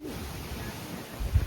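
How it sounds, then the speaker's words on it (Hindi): A strong storm wind blows around a house surrounded by many trees, a steady broadband rush with low gusty rumble buffeting the microphone and a brief stronger gust near the end. "देखो कितनी भयंकर हवा चल रही है।"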